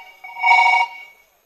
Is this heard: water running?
no